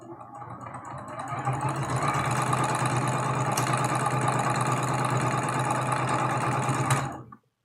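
A sewing machine runs steadily through a quilt block seam, a continuous close whirring hum that starts softly, holds even for about six seconds, then stops abruptly.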